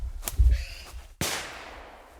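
A shotgun fires during a wild boar hunt in mountain woods: two sharp blasts roughly a second apart, the second followed by a long rolling echo through the hills.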